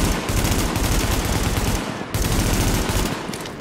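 Rapid automatic gunfire in the video game The Division rattles continuously and loudly, pausing briefly before another sustained burst starts up.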